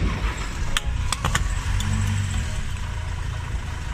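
A vehicle rolls its wheel over a smart plug to flatten it. Close engine rumble and the rolling of tyres carry a few sharp clicks and cracks from the plug, with no talk.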